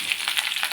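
Mustard seeds and lentils crackle and sizzle in hot oil as tomato chutney gets started, a close, bright hissing with quick popping bursts repeating every fraction of a second.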